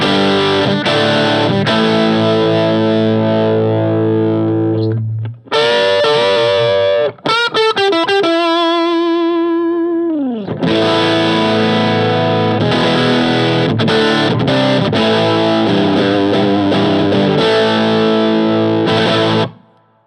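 Electric guitar through a TC Electronic Mojo Mojo overdrive pedal rings out loud and alone in crunchy chords and riffs, broken by brief pauses and a bright run of held, bending lead notes before the chords return.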